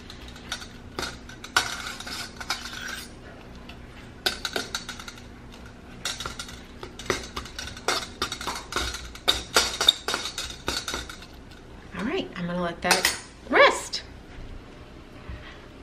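Metal pots, pans and utensils being handled while a pan is readied for keto naan: scattered clinks, taps and scrapes near and moderately loud, with someone talking intermittently over the clatter.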